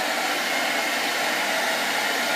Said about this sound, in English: then what I do is I get my wife's hair dryer